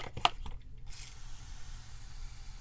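A plastic spray bottle mists soil over freshly sown pepper seeds indoors: one quick, soft hiss of spray after some faint handling rustles, then quiet.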